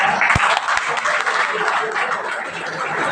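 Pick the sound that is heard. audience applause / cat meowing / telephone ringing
audience applause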